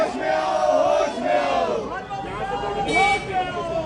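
Crowd protesting against Smriti Irani, a dense roar of many voices shouting and chanting together, rising and falling in loud waves.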